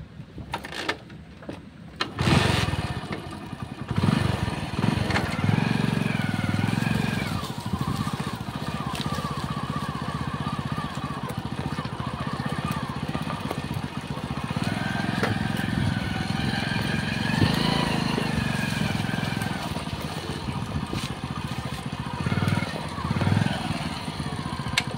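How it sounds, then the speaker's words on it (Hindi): A motorcycle rides across a farm plot of poplar trees, its engine droning steadily and loudly nearby for the whole stretch with slight surges in pitch, and someone occasionally talks over it. "देखो अभी हम बाइक पर चलेंगे अपनी"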